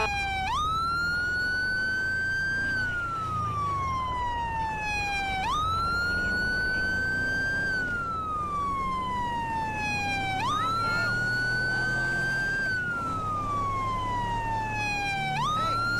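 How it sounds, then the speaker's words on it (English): A fire truck siren from the Bison in Grand Theft Auto V wails in repeated rising-and-falling cycles, loud and continuous over a low engine rumble. "So the siren's a little bit different for the Bison."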